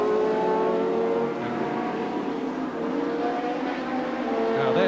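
Thundersports race cars at Brands Hatch in 1985 scream past in a steady, continuous engine roar, loud and sustained with slight shifts in pitch as they run close together through the circuit.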